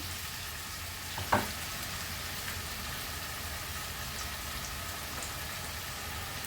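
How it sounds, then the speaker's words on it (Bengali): Onion and ginger paste fry together in a pan for chicken curry, a faint, steady low sizzle with a single soft clink early on and no voices. "চলো, আদার সাথে পেঁয়াজটা ভালোভাবে একটু ভাজা হোক।"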